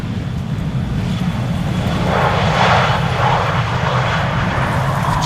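An airliner arriving at Amsterdam Schiphol Airport during a windstorm, a loud, continuous engine roar with heavy wind buffeting the microphone, swelling slightly toward the middle and holding steady throughout.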